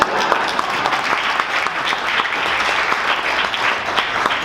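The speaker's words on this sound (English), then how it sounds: "Yes, you could applaud for that." Dinner guests at a Peace Action anniversary banquet break into applause, a sustained, fairly close roll of many hands clapping with no letup.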